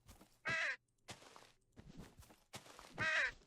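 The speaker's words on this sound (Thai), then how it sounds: "อีกา อีกา" A crow caws several times in a Minecraft zombie add-on soundscape, harsh calls spaced apart, the first and last loudest, with softer caws between.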